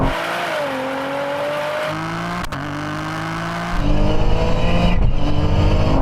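A 600 hp Toyota GR Yaris spins its wheels while accelerating hard in a drag race. The engine roars loud and continuous with rising revs, a brief break around a gear change, then climbs again even louder.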